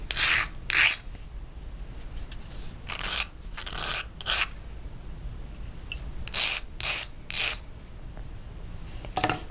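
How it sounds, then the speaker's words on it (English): A sanding stick rasps against the metal edge of a riveted tab ring in several short, scratchy strokes, some in quick pairs, separated by brief pauses. "you can come in with a sanding stick and you can just knock off the edge here"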